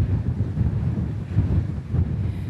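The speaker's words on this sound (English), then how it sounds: "The winds are strong here, and they blow all year round." Strong, steady wind buffets the microphone at a wind farm site in Bosnia and Herzegovina, a continuous low roaring rumble with gusty surges and no voices.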